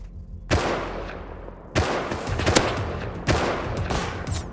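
Video game gunfire: heavy bursts in several loud volleys, echoing and booming with rattling automatic fire between them, no talking.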